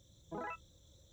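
A single brief cricket chirp in a video game, a short buzzy burst standing out over a faint, steady electronic hum in an otherwise quiet scene.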